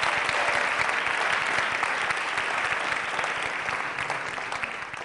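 A studio audience gives sustained applause for couple Hayko and Anahit Simonyan on the Vitamin Club show in 2011, a dense, steady clapping that fills all five seconds and fades slightly toward the end.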